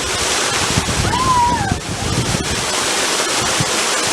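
Waterfall at Waterfall Gully, a steady, loud rush of falling water with wind buffeting the microphone and a brief voice-like tone partway through.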